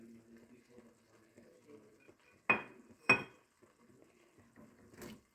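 Two sharp metallic clinks of a spoon against a pot while vadiyalu are stirred into gongura, urad dal and pumpkin pulusu, with soft scraping and quiet rustling between them and a fainter knock at the end.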